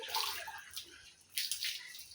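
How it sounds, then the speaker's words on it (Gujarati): Water poured over the Meladi Mataji shrine gives short, close splashing bursts, two or three uneven pours with brief gaps between them, and no voices. "માતાજીના પાણી રેડે છે મારા મેલાડી માતાજીને"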